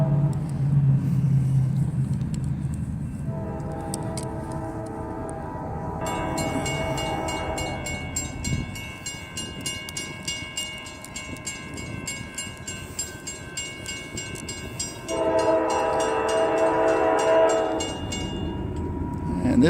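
A long double-decker train rolls through a city centre near a crossing, its steady rumble and clatter carrying on at close range for the whole stretch, with tonal horn or signal sounds near the start and again toward the end.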